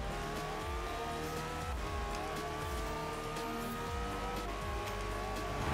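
A Pagani Zonda in Forza Horizon 4, its simulated engine droning with stacked harmonics that rise and fall through repeated gear changes, loud and close without any talk.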